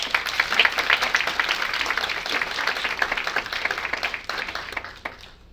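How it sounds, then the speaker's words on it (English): Audience applause for Miss Bettie at a Kwanzaa awards ceremony, a dense, steady wash of many hands clapping that holds for several seconds and then tapers off near the end. "Let's give a clap to Miss Bettie."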